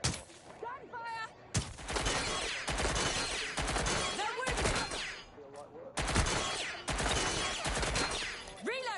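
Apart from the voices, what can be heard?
gunfire in video game Watch Dogs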